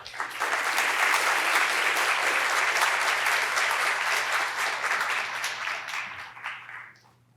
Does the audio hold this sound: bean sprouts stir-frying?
no